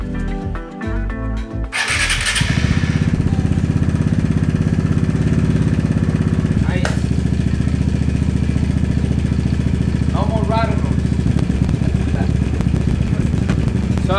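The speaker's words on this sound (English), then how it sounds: "now let's run the bike and see how everything runs" A scooter engine fitted with a new S.I.P drive pulley and Polini clutch starts up and then idles steadily at close range, with a loud, even putter and a few faint clanks over the running engine.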